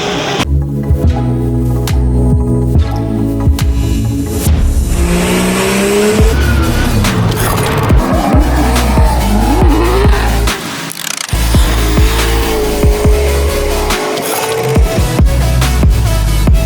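A drift car at a Formula Drift event in Seattle screams its tires and engine through a long slide, with loud sustained squealing and revving, a brief dropout, then more roaring tire smoke sounds close and dominant.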